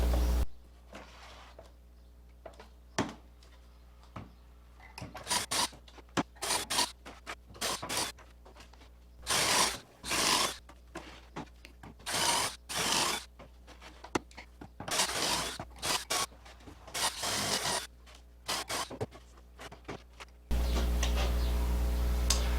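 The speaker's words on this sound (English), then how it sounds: "All right, time to cut some pocket holes." Pocket holes drilled into wood for a bench, with repeated bursts of loud drill whine and chattering cutting, separated by quiet pauses and light ticks and clicks, ending in a steady loud hum.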